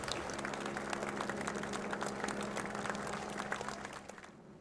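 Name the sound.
applause for Cilla Black's funeral cortege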